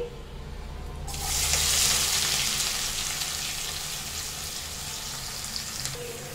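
Chopped onions drop into hot oil with cinnamon, cloves and shahi jeera for a restaurant-style chicken curry, setting off a sudden loud sizzle that stays as a steady, close hiss with faint stirring.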